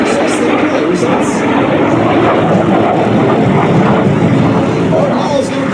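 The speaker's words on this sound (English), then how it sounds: "The L-39, which Art is flying today, is a Czech Republic-made aircraft" Czech-built Aero L-39 Albatros jet roaring continuously overhead during an aerobatic routine at an air festival, a loud steady engine wash with a public-address voice talking over it.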